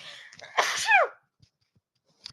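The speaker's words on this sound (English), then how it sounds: "I have to sneeze." A single loud sneeze bursts out up close, followed by near silence and a faint rustle.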